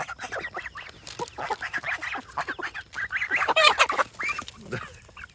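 A flock of chickens crowding a feeder on a homestead clucks and squawks in a busy, overlapping chorus, fairly close and steady throughout, with a few louder calls near the end.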